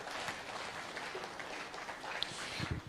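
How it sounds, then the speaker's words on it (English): An audience at a national dialogue conference claps steadily for a few seconds for a keynote speaker, a dense patter of hands filling the room at moderate volume. "James Boateng, round of applause for our keynote speaker."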